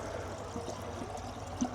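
Water poured into the cooling system of a 1942 Chev 4WD truck engine with a leaking water pump and collapsed pump-shaft bearing, a steady close trickling pour with a slight splash near the end.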